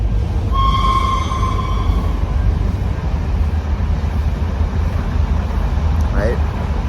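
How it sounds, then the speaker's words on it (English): A passing train sounds a short tonal horn blast early on over a steady, loud low rumble that continues throughout. "There's that train."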